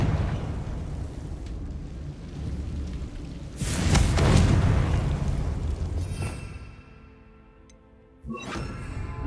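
A fiery Confringo blasting spell goes off in Hogwarts Legacy deep inside a goblin mine. A loud, rumbling explosion swells and slowly dies away, then a second blast hits near the end.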